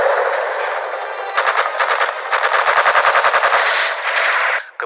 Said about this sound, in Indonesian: kru heli melepaskan tembakan balasan ke arah sniper musuh